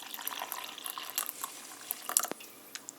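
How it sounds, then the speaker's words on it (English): French vanilla cappuccino mix poured from its container into a cup, a soft trickling, splashing pour heard up close at low level, with a few brief clinks and taps along the way. "pour into a cup from the container"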